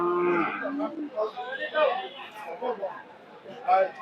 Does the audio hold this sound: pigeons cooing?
no